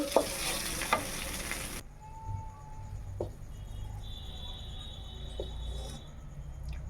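Spices frying in a pan for stuffing okra, with soft scraping stirs and a light sizzle, close and moderately quiet, with no voices.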